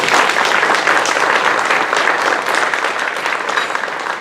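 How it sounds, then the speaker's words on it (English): Audience applause in a meeting room, dense steady clapping from a crowd that continues throughout and tapers slightly toward the end. "You should give them a hand of applause."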